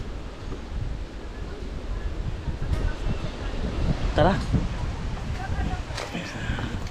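Wind gusts rush across the microphone in a rough, continuous roar, swelling and easing, with a faint outdoor wash behind it.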